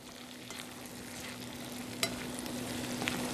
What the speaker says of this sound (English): these are just going to get nice and tender in that olive oil and butter